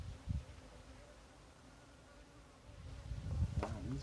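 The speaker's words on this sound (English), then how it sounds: "bees. They like that agua florida." Bees buzz in a low, steady drone around someone outdoors, with a couple of closer, louder passes near the start and end.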